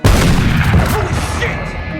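A loud, booming gunshot from the crime drama Training Day, a single sharp blast at the start followed by a dense, sustained rumble that fades slightly over two seconds.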